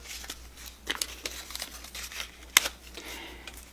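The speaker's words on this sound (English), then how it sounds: "Actually, we're going to pull 2 leaves off" Sunflower leaves being pulled from their stems for a centerpiece give soft, close crinkling and rustling with a few light snaps, one sharper crack standing out near the end.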